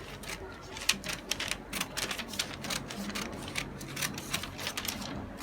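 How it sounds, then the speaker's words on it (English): Scissors cut a paper corset pattern in a run of rapid, rhythmic snips and crisp clicks, fairly quiet and close, continuing steadily from start to finish. "So I'm going to cut out the curve too."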